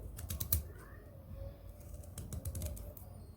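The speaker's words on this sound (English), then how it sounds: "So I'll go ahead to dice the ginger rhizome." A knife dices ginger rhizome on a cutting board in quick bursts of light, crisp taps, close by and fairly faint, with a short pause in the middle.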